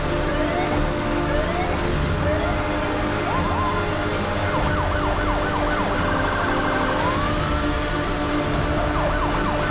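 A police interceptor siren from the racing game Need for Speed Hot Pursuit wails loudly and continuously, its rising and falling sweeps repeating over engine roar throughout.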